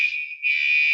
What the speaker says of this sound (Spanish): Están probando el sistema contra incendios.